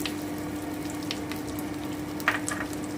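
Ginger paste and spices fry in a pan with a continuous close sizzle, stirred with a couple of brief scraping clinks near the end, no talk.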